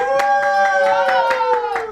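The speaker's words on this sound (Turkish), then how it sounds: "Büyük alkış, büyük alkış." Quick, evenly spaced hand claps ring out over a sustained, tonal voice, forming a steady rhythmic round of applause.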